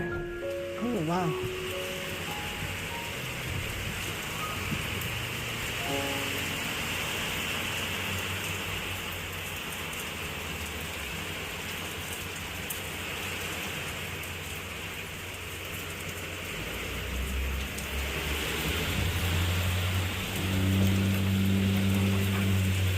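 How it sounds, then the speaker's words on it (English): Steady rain pours down outdoors, a dense even hiss of drops on surfaces that stays constant throughout, with faint voices and a low rumble rising near the end. "Raining out now, huh?"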